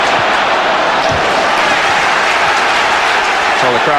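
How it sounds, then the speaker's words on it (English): A football crowd at Upton Park roars in support of West Ham during a 1994-95 Premier League match against Blackburn Rovers, a loud, steady wash of noise that continues unbroken, with a voice briefly audible near the end. "the crowd certainly doing their best to inspire West Ham"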